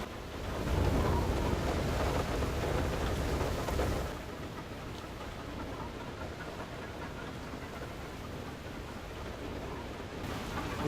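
Rainstorm in the video game FAR: Lone Sails, a steady dense hiss of rain and wind that is louder for the first few seconds and then settles into a softer constant wash.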